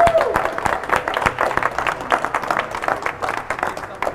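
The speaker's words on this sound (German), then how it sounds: "Großen Applaus" Applause from an audience at a Sony photography workshop on a trade-fair stage rings out as dense, continuous clapping for about four seconds, loud and close.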